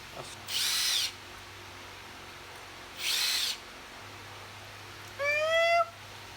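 A heavy-duty power drill, used for drilling out rusted screws and bolts in a garage, runs in two short bursts of about half a second each, with a higher squealing whine at the end over a steady low hum.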